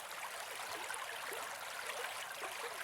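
A flowing river gives a soft, steady rush of water, an even broadband hiss with faint bubbling ripples, quiet and continuous with no voices.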